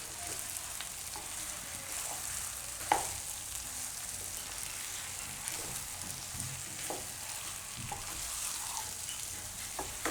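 Boiled potatoes being mixed with puffed amaranth in a hot pan, a soft steady sizzle with a few spoon scrapes and taps, fairly quiet and without speech.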